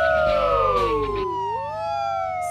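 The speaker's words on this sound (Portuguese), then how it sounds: "Sua buzina é alta." A loud cartoon police car siren from a children's animated show wails in long sliding tones, rising and falling, with a brief honk-like burst at the start.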